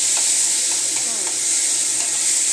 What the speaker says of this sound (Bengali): তেলটা গরম হয়ে গিয়েছে, তো পেঁয়াজ বাটাটা দিয়ে দিলাম। পেঁয়াজটাকে আমি ভেজে নিব।